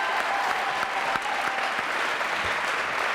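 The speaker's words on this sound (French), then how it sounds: "Applaudissements donc pour Papin." A television studio audience on a French variety show breaks into sustained applause, a dense wash of many hands clapping at moderate volume, steady with no talk over it.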